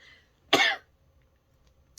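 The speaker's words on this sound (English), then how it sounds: "I can't even laugh with this cough." A single harsh cough from a woman nursing a lingering cold, close and loud in a quiet room, followed by a short faint catch near the end.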